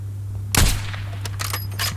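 Sniper rifle shot in the video game Call of Duty Warzone: one sharp, loud crack followed by a brief trailing echo and a few lighter clicks over a constant low hum.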